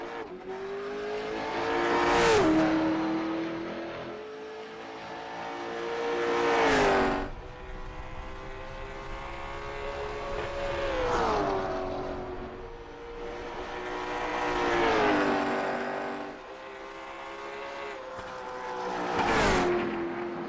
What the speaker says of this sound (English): Next driver to hit the racetrack.